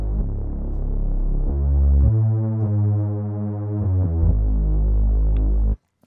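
A filtered sine bass synth patch with the filter opened slightly and drive lowered, playing loud deep sustained notes that step between pitches in a slow phrase before cutting off abruptly near the end.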